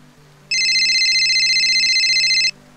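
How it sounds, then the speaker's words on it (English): A phone ringtone rings out in a steady high electronic trill for about two seconds, loud and close, over a faint quiet background. "Your phone started ringing a couple of minutes later"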